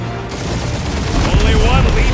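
Gunfire and blasts in the Marvel's Guardians of the Galaxy video game, a dense busy fusillade that swells louder after the first second, with whooshing effects and speech mixed in.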